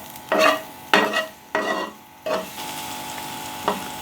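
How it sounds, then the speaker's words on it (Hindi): Garlic and ginger paste frying with cumin for chicken jalfrezi, stirred in five rasping strokes, the first four long and evenly spaced and the last shorter, over a quieter steady sizzle, close up and free of speech. "अब हम इसमें गार्लिक पेस्ट ऐड करेंगे, जिंजर पेस्ट ऐड करेंगे। अच्छी तरह से मिक्स करेंगे।"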